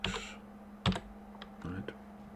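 Typing on a computer keyboard, quiet scattered key clicks with one sharper press midway, heard close over a faint steady hum with no talk.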